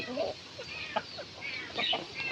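Chickens in a village yard being fed rice, giving soft, scattered clucks at a moderate distance amid quiet outdoor ambience.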